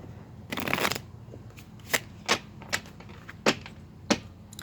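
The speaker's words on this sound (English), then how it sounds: "I'd like to pull just a couple of tarot cards." Tarot cards are shuffled in a brief riffling burst, then single cards are pulled and laid down in a series of crisp, close snaps and flicks spaced about a second apart.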